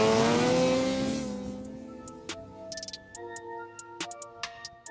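A Polaris Titan utility snowmobile engine roars loudly as it pulls away, its pitch rising before fading into the distance, leaving sharp ticking and clicking sounds.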